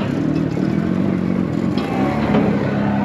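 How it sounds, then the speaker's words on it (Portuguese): A fire brigade motorboat engine drones steadily and loudly close by during a crossing of flooded streets, with a continuous low rumble and slight clatter and no talk. "É uma lancha ali com motor."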